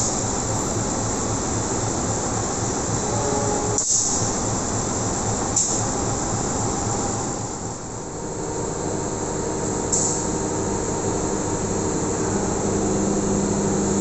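A locomotive-hauled passenger train about to depart Pasar Senen station rumbles and idles with steady low mechanical drone, a couple of brief clanks, continuous and fairly loud with no talking.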